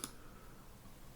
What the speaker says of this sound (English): Okay, so clicking send